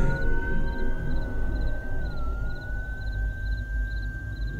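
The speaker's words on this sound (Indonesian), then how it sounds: "suara sirene ambulan itu semakin lama suaranya terdengar semakin keras." An approaching ambulance siren holds a steady, high tone at one pitch with a brief dip, over a low rumble of background noise, sounding somewhat distant.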